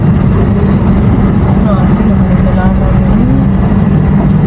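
A vehicle engine labours steadily as it climbs a very muddy farm road, a loud, continuous low drone filling the whole stretch without letup.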